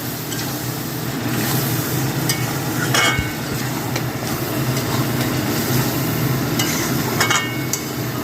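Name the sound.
stirring spinach gravy in a pan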